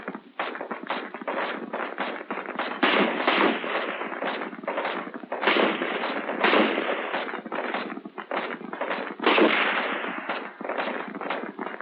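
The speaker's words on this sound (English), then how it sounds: "In the sitting position, you get off several rounds of slow fire." Slow-fire rounds from an M14 rifle in the sitting position during 1960s Marine Corps marksmanship training, a series of separate sharp reports at uneven intervals with no talking.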